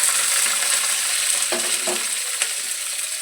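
Vegetables sizzle steadily in a pan while being cooked for sama rice khichuri, a constant hiss with a few soft stirring clinks near the middle, no talking.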